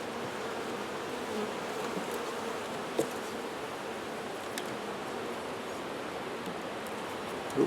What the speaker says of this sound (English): And here looks like a lot of bees in the bottom.